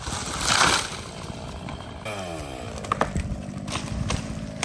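Chainsaw cutting up a felled elm tree outdoors, a loud buzzing saw burst that rises and falls with revving, engine noise continuing steadily under scattered knocks and crackles.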